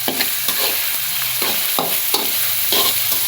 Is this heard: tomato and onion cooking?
yes